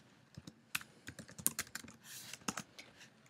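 Fingers typing a command into MATLAB on a computer keyboard, a quick irregular run of crisp, close key clicks with brief pauses between bursts, no speech.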